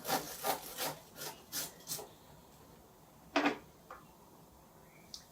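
A knife saws through the toasted edges of a croque monsieur, a hot ham-and-cheese sandwich, in six quick rhythmic crunchy strokes, then a single louder cut after a pause and a couple of faint taps.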